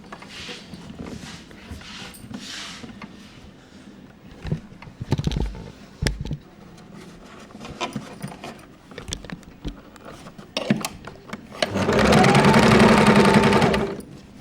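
Sewing machine stitching a folded side seam on children's underwear, with scattered handling clicks and rustles before a loud, steady burst of fast machine stitching near the end, running alone without talk.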